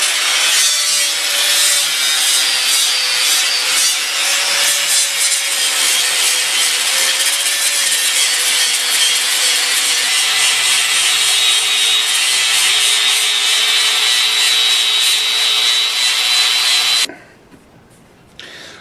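Coarse 36-grit abrasive grinding steadily across a wooden mushroom dolly blank, a loud continuous rasp close by for about seventeen seconds before cutting off abruptly.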